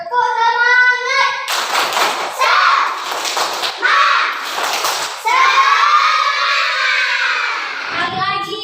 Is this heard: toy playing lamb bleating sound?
no